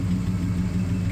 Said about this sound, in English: hear that little lifter tick.